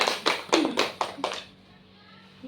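Children in a classroom clap hands, about five or six distinct claps in quick succession, close and fairly loud, followed by a quiet room.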